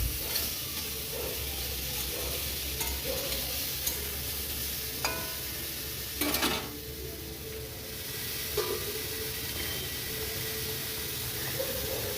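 Ripe mango pieces with turmeric and a little salt are stirred in a hot pan for a chutney, producing a continuous close hiss and sizzle with occasional scraping knocks from the spatula.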